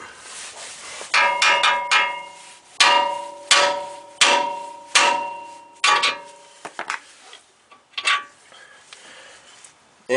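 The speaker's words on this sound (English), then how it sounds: "I'm going to smack the knuckle right here to pop this ball joint up." A hammer strikes the steering knuckle of a 2009-2020 Ford F-150 to pop the ball joint loose, a series of about ten sharp metallic clangs with ringing tails, spaced irregularly and heard alone.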